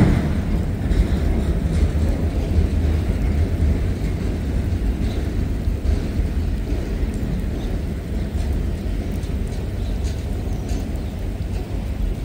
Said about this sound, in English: Nothing like a slow-moving auto rack train.